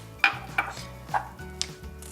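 Applesauce goes into a foamy almond cake batter and is stirred with a utensil in a bowl, giving four or five sharp clinks and taps against the bowl at uneven intervals over a low background hum.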